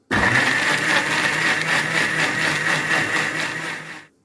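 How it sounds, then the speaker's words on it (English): A blender runs steadily at high speed blending onions and water, a continuous loud whirring motor with a bright whine, stopping abruptly after about four seconds. "I'll also blend this till it's very smooth."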